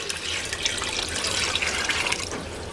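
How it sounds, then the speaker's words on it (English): Water pours steadily into a canning pot holding jars of dill pickle relish, a continuous bright splashing rush lasting a few seconds at close range. "So I'm going to add some more water here."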